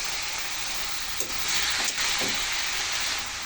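Leafy greens get stirred and tossed in a hot cooking pan, a continuous loud sizzle and hiss with a few scraping stirs rising through it, close up and with no voices.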